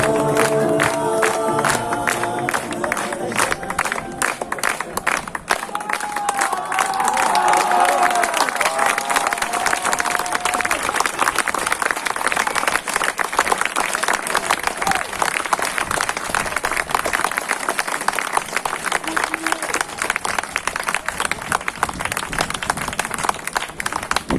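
Theatre audience applauding at the close of a satirical stage show, sustained loud crowd clapping with cheers and whoops, a voice calling out over it in the first seconds before the ovation carries on alone.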